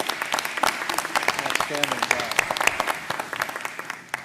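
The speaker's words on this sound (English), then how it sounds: "my first request would be to give Tammy a round of applause" Audience applause for a school choice roundtable moderator, a steady patter of many hands clapping throughout, with a voice speaking briefly over it.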